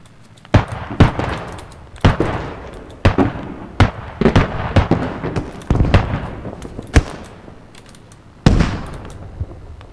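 Gunfire in the video game Squad, a series of sharp single shots and bursts spaced irregularly, loud and close with reverberant tails.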